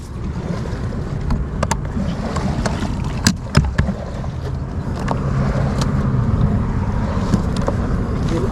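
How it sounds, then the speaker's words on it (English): Steady engine drone of a small fishing boat off Jamaica, out after king mackerel and jacks, running continuously with water and wind noise and a few sharp knocks and clanks. "Now put on the engine."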